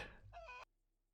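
A video-game chicken gives a short, clear cluck and squawk, loud and close, then cuts abruptly to near silence.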